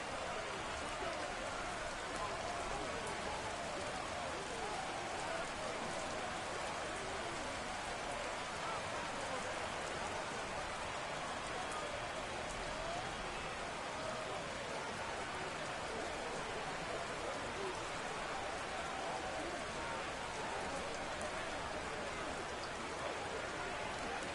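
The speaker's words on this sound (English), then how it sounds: "The rain set to continue as we are underway in the second half." Steady rain falling during a Madden NFL 22 Lions vs Bears game on PS5, a constant dense hiss of drops with no breaks across the whole stretch, moderate in level with no clear talk on top.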